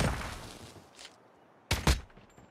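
AK117 rifle firing in Call of Duty Mobile: an opening burst of shots fading out, a faint lone shot, then two sharp, loud shots close together near the end, with no talk over them.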